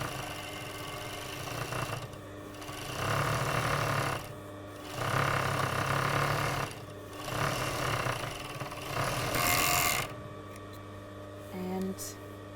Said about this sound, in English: we have them both seams overlocked, and they won't fray anymore